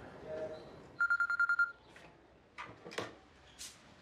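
A telephone rings in an office reception, a short burst of rapid electronic ringing pulses, followed by faint clicks and movement, with light speech-like sounds in the background.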